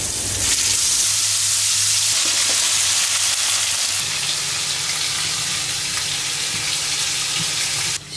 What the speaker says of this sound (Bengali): চিকেনটা এখন আমি এই যে ভেজে রাখি